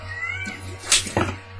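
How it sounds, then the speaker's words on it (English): A cat on a playing field during a game gives a couple of close, clear meows in quick succession, with a low steady hum underneath. "Cat constantly going across the field."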